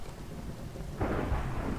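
Thunder during a storm in the Minecraft TerraFirmaCraft game, a low rumble that swells about halfway through and rolls on under faint rain.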